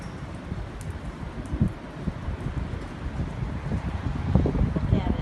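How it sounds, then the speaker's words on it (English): Strong hurricane wind buffets the microphone outdoors on the Florida coast as Hurricane Ian hits, making a loud, continuous low roar with gusty surges. "Feel the wind?"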